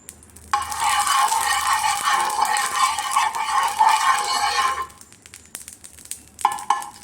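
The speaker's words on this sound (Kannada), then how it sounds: "ಇವಾಗ ದೋಸೆ ಹುಯ್ಯೋಣ." Dosa batter of overnight-ground rice seasoned with salt and sugar hits a hot oiled dosa tawa, bursting into loud, close sizzling that holds for several seconds and then cuts off, followed by a few light clicks.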